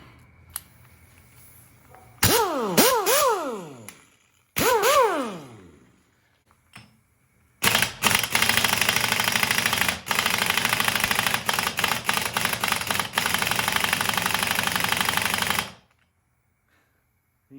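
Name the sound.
pneumatic air impact gun running on full air compressor pressure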